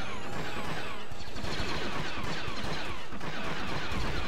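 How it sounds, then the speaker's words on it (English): A commando pistol firing in the video game Star Wars Battlefront 2, rapid repeated blaster shots amid loud, dense gunfire and battle noise throughout. "Commando pistol."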